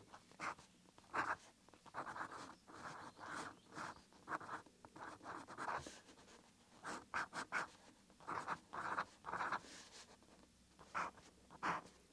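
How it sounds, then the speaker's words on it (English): A Pelikan M200 fountain pen with a medium nib scratches across paper in quick bursts of strokes and short pauses, close and faint. "we have got Pelican M200. And this one, I believe, comes with a medium nib."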